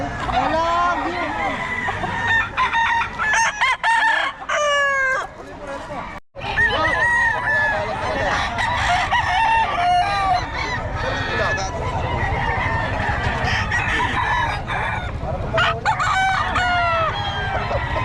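Gamecock roosters crow repeatedly at a busy poultry market, several birds near and far overlapping, with clucking and goose-like honks mixed in. People talk and haggle throughout, and a constant crowd rumble fills the background.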